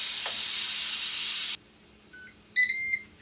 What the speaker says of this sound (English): Still a little bit of steam coming out.